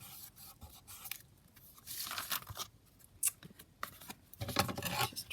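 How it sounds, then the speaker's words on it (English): Scissors snip and crunch through the outer edges of a folded paper booklet-style tag with pockets, a close series of irregular cuts and scrapes spread across the moment, with no talking. "I'm going to obviously trim off the outside."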